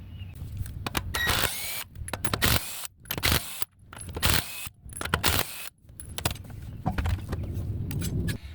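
Impact wrench loosening lug nuts on a 2019 Infiniti QX60 3.5L front wheel, repeated loud close bursts of hammering whir separated by brief gaps.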